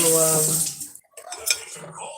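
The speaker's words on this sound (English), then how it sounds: "I'm just gonna do dishes and get ready for supper." Dishes, pots and cutlery clatter and clink close by in a kitchen sink as water runs from the tap, a steady wash of splashing with sharper knocks of utensils throughout.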